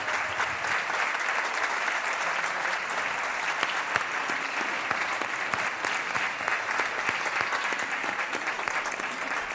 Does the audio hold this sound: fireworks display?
no